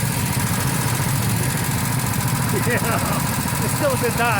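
Go-kart engines at a go-kart track in the Statesboro and Savannah area of Georgia, a steady loud mechanical drone with faint rising and falling engine whines. A voice speaks briefly over the noise.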